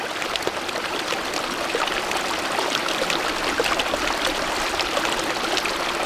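Water rushes and trickles steadily as a portable water filter pumps it, a continuous close gurgling flow with no talk.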